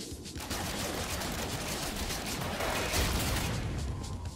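Gunfire in No Man's Sky: a continuous dense crackling barrage of rapid shots, steady and moderately loud throughout.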